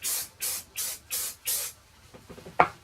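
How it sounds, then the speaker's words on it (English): Five rapid, even bursts of Bedhead Masterpiece hairspray misted onto styled hair, each a loud airy hiss about a third of a second long, followed by faint handling taps and a sharp click. "take the Bedhead Masterpiece hairspray and spray this on"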